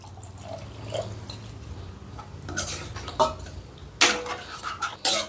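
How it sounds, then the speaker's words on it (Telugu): Water is poured into a yogurt masala for okra curry, giving a soft, quiet trickle. Light utensil clinks and scrapes against the pan follow. "ఒక ఫిఫ్టీ ఎంఎల్ వాటర్ కూడా యాడ్ చేసుకుందాం"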